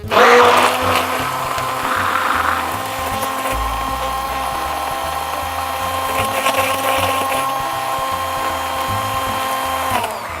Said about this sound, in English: I'm also gonna tilt this way, the Hamilton Beach blender, to an angle, so then half the blade is out and half the blade is in.